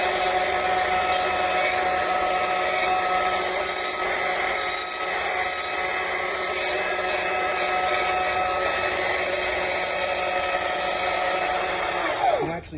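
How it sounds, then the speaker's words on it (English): A chainsaw runs loud and steady while finishing and smoothing scrap wood. It makes a continuous rasping whine and cuts off near the end. "Finish your wood with a chainsaw"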